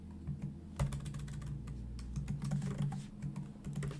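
Typing a password on a computer keyboard: a steady run of quick, close key clicks continuing throughout at a moderate level.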